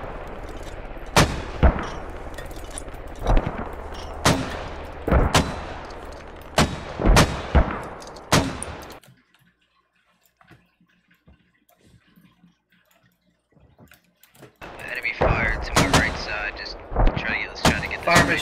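Mortar artillery fire in the video game Squad: a rapid series of loud, sharp booming reports in the first half, then near silence, then more distant rumbling fire and clatter at the end.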